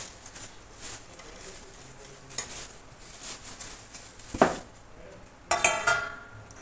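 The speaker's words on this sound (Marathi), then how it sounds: "आता मी इथं 1 किलो डाळीला 1 किलो गूळ टाकते." Grated jaggery tipped into cooked dal in a pot for puran poli and stirred, giving soft scraping and clinking of a utensil against the vessel, with a couple of sharper clanks toward the end.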